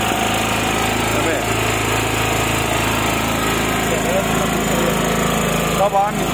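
A 2.5 kW petrol electric generator runs with a steady, loud, continuous engine drone and buzzing hum throughout, with a brief dip near the end.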